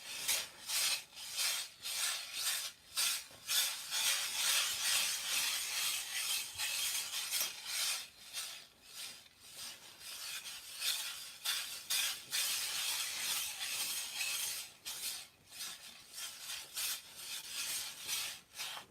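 Rhythmic gritty rubbing and grinding strokes of paint pigment being mulled, steady and close, repeating back and forth throughout with brief pauses between passes.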